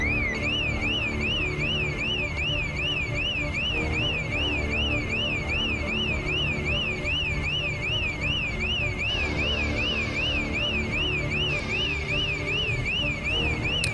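Car alarms wail in the Project Zomboid video game, a loud warbling siren that cycles rapidly up and down without pause, with a second alarm layering in partway through over a constant low rumble.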